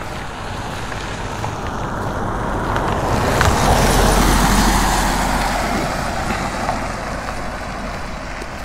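Traffic on a nearby road swells and fades as cars pass outdoors on a cold day, a broad whooshing rush that peaks in the middle and trails off, with wind in the background.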